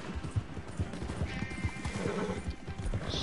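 A horse in the video game Red Dead Redemption 2 lets out a whinny over quick, steady clip-clop hoofbeats, fairly close and moderately loud, with no talking.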